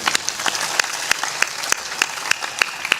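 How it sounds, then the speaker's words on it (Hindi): Audience applause at a gathering welcoming a chief guest, a steady patter of many hands with sharper individual claps standing out, fairly close and continuous, with no talking over it. "जोरदार ताली बजाइए"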